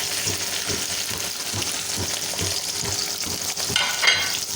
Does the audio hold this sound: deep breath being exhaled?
no